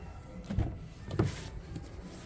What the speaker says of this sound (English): one touch auto up down for all four windows